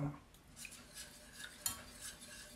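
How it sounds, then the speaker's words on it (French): A utensil stirs cream mixed with speculoos paste in a pan, giving soft scraping strokes and a few light clinks against the metal, quiet and close, with no voices. "Là je mélange jusqu'à temps que la pâte à spéculoos soit vraiment infusée."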